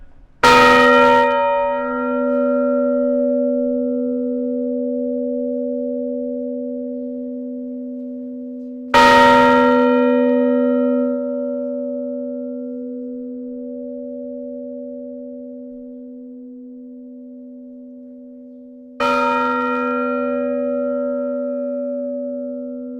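The bronze church bell of San Carlos is struck by its clapper three times at slow, even intervals, each loud clang ringing out into a long, humming resonance that decays between strikes.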